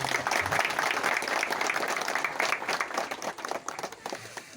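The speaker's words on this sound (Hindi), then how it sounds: "आप चाहे तो उनके लिए एक ताली बजा सकते हैं।" An audience applauding local actors, with sustained clapping from a crowd that holds steady for several seconds before thinning out toward the end.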